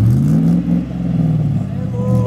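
A car engine hums and revs steadily at close range, the motor held high in the gears, while people talk over it inside the car.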